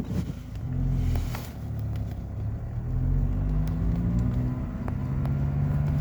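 A car is driven past vineyards in the Mâconnais countryside, giving a steady low engine rumble and road noise from inside the cabin, with a few faint clicks and rattles.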